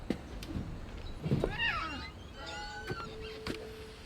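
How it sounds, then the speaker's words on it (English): A cat in the video game What Remains of Edith Finch gives a few soft, faint meows amid quiet ambient game sounds and footsteps. "Is that Kitty out here?"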